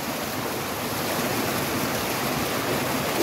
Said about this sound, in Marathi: धबधबा इथं आहे, पाठीमागे धबधबा,